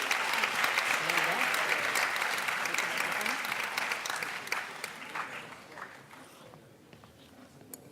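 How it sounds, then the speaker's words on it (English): Conference audience applauding student presenters, a dense, loud wash of clapping that gradually thins and fades over several seconds, with a few scattered claps and faint voices near the end. "Can we give them a round of applause?"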